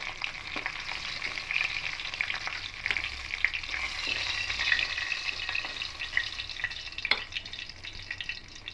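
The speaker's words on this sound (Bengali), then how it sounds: "এবার মাছের মাথাগুলো এপিট এপিট করে লাল করে ভেজে নেব" Fish heads sizzle and crackle steadily in hot oil for a curry, a dense continuous frying hiss with occasional spatters and light stirring, close and fairly loud with no talking.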